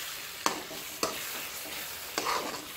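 Tomatoes softening in a covered pan on a low flame for a small fish curry give off a faint, steady sizzle, broken by three sharp utensil knocks.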